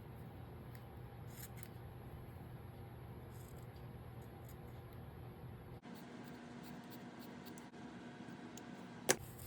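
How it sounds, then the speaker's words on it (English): Scissors snipping through paper while cutting out an ATC card, a faint steady crisp rasp over low background hum, ending with one brief sharp snap near the end. "so let's cut out one of these. I don't have the right scissors here."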